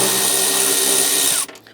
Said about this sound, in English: We're using our 8mm socket to remove these.